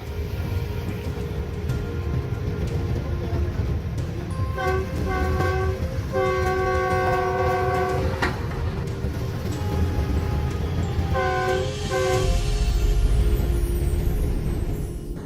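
A train rumbles steadily along the tracks, and its horn sounds in several short blasts midway. A longer horn blast follows later as the loud, continuous rolling noise swells slightly near the end.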